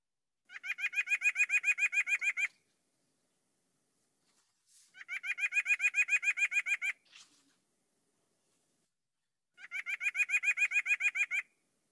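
Calls of a common southwestern Ohio backyard bird near trees and feeders: three separate bursts of rapid, evenly pulsed chattering notes, each about two seconds long, with quiet pauses between them.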